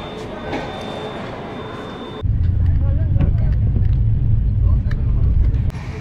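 A train running at about 56 km/h rumbles along the tracks with a steady low roar that grows heavier midway, clattering faintly over the rails.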